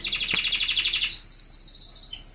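A close, loud bird chirps in rapid repeated trills, then shifts to a higher sustained warble, with a brief click near the start.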